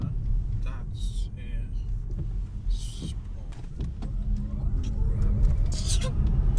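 An MG4 XPower electric car accelerating hard in sport mode on a Lake District road: a low steady road rumble and faint motor whine that builds, under people talking in the cabin.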